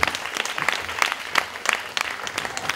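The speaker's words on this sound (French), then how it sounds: "Sous vos applaudissements, merci." Audience applause at a Jean Claude Biguine hair salon company event, a lively crowd clapping steadily with several sharper, louder claps standing out from the dense patter.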